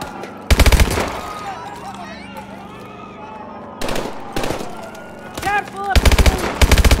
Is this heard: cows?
no